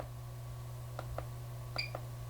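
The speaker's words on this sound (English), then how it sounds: "you have whether or not you wish to have an audio confirmation beep." A Westcott FJ400 studio strobe gives short electronic confirmation beeps, a quick pair of tones followed by a slightly higher pair, faint over a steady low electrical hum.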